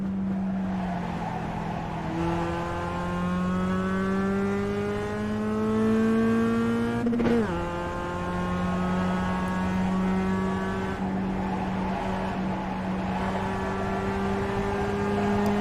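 A race car engine held on throttle at Road America in a racing game, a loud sustained drone that slowly climbs in pitch, dips sharply once around a corner, then rises again, with no voices.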